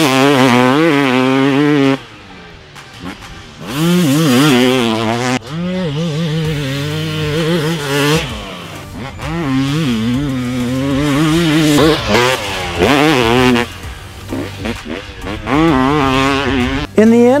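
A 1995 Honda CR250 two-stroke dirt bike engine revs loud and close throughout, its pitch rising and falling in repeated throttle blips with a rough, buzzy tone.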